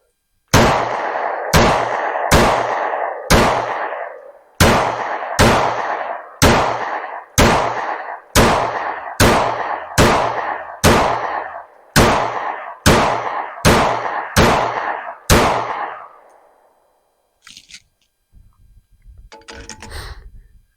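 Handgun fired repeatedly, about sixteen loud, sharp reports in a steady rhythm with brief pauses, each with a short ringing decay, then quiet handling noise.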